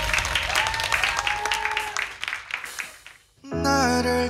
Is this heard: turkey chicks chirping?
no